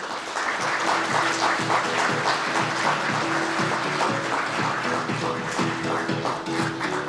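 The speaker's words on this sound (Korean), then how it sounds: "큰 박수로 맞이해 주십시오." Guests at a Korean product showcase for a payment platform clap steadily, a sustained, moderately close round of applause with a faint tone and a voice murmuring beneath it.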